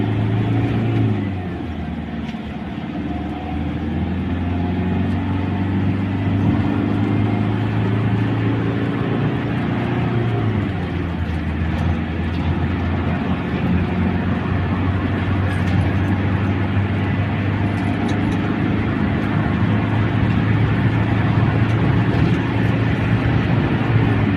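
A Toyota Vigo pickup engine held at steady revs with the accelerator at a garage, a loud continuous drone with a brief dip in pitch midway, then holding level.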